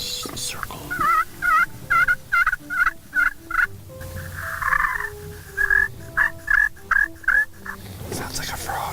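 While turkey hunting, a frog-like call sounds in repeated short warbling bursts, a rhythmic series of croaks and gobble-like notes, a pause, then another run of quick pulses, loud and close with little else around.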